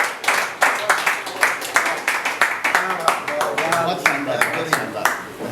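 Applause from the audience at an open mic poetry event in Aligarh: a steady patter of many hands clapping close by, with a voice talking over it.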